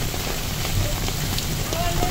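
Heavy stormy rain falls outdoors as a steady broadband hiss with scattered drop patter throughout, a faint voice briefly underneath.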